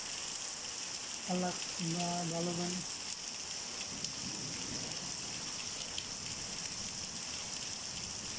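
Heavy, continuous rain falls in a long downpour, a steady, fairly loud hiss throughout, with a brief tonal call or voice near the start.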